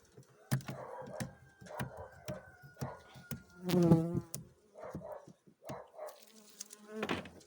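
Buzzing of honeybees around a hive entrance in December at 11°C, a steady insect drone with louder passes as individual bees fly close by; no talking.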